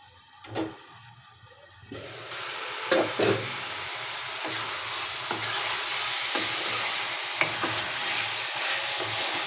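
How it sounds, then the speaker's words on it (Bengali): Vegetables for a silver carp fish curry are stirred and sautéed in a pan: a soft sizzle rises after a couple of seconds, with periodic spatula scrapes and taps, close and fairly quiet. "এভাবে ভালো করে নাড়াচাড়া করে সবজিটা কষিয়ে নিতে হবে"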